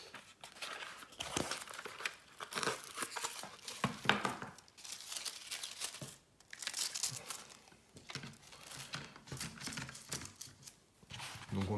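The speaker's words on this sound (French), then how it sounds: "je vais les sortir des cartons. Et on va ensuite les déballer." Trading cards are unpacked from cardboard boxes, with close, fairly quiet bursts of tearing, crinkling and crumpling packaging coming in irregular handfuls, separated by short pauses.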